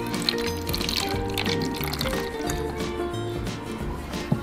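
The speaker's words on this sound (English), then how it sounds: "So first, I'm gonna put water into the teapot." Water is poured into a teapot, a steady liquid trickle and fill sound running continuously at close range with a few faint clinks.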